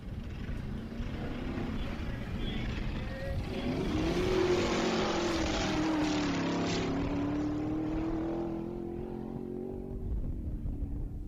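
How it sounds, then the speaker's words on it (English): A vintage Ford gas coupe with a V8 launches off the line at a Bonneville-style SCTA speed event, its engine a loud, sustained roar that rises and shifts in pitch as it pulls away. "Don't think Henry Ford meant for that 6-cylinder to sound that good."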